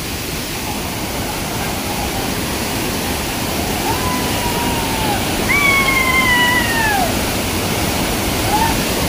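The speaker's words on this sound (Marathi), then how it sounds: "ते पाणी ना वरून पडतं ना ते कसलं बसतं मस्त वाटतं एकदम" A waterfall on a stream in rural Konkan, a loud dense continuous roar of falling water, with faint thin animal-like calls rising briefly over it.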